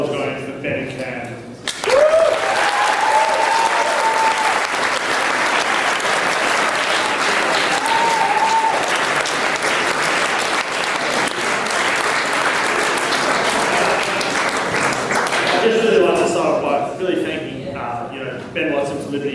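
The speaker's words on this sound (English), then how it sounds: "Please keep that applause going for Ben and Cam." Sustained audience applause at a university guild presidential debate, loud and dense for most of the stretch, with brief cheers or whoops rising above the clapping before it tapers near the end.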